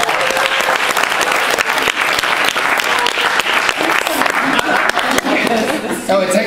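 Sustained applause from a workshop audience at an anime convention acting session, dense and steady throughout with crowd voices mixed in and a bit of talk near the end.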